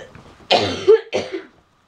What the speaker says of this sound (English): She's had this cough 4 weeks.